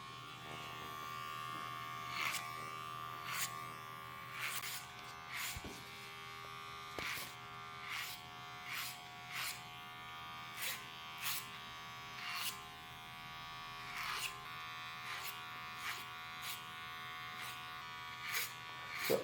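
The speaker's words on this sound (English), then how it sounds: "I'm just going to clipper over comb that out as well." Electric hair clippers buzz in repeated short bursts during a clipper-over-comb pass on a flat top haircut, blending a 1.5 guard weight line; the strokes are close, steady and rhythmic with no talk.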